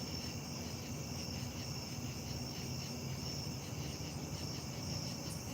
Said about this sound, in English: We got crickets.